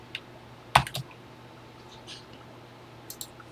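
A few keystrokes on a Texas Instruments home computer keyboard, entering a BASIC program line: a sharp cluster of clicks, then sparse faint taps, close and alone with no talk.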